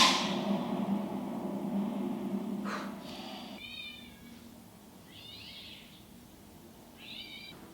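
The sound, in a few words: cat meowing in the film The Prestige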